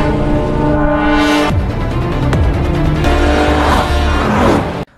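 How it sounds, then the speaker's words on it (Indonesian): A car in a gangster film scene roars as it accelerates away fast, loud and continuous engine revving with rising pitch shifts, ending abruptly. "Kang-kyung langsung tancap gas dengan mobilnya."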